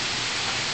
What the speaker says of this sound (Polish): leje, ale to tak leje, w ogóle jak z wiadra